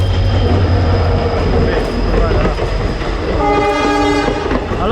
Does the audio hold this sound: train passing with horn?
yes